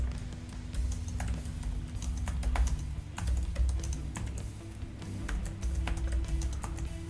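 Rapid, steady keystrokes on a computer keyboard clatter close by while text goes into a Canva design, running continuously over a low droning hum with no speech.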